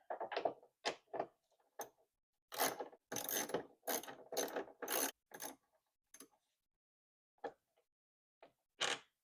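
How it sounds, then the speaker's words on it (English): A ratchet with a 10 millimeter socket removing headlight assembly bolts on a Chevy Cobalt, giving close, crisp bursts of clicking pawl sounds in irregular spurts separated by quiet pauses. "we'll take off these two bolts that are holding the light assembly in place. And we're going to use a 10 millimeter socket"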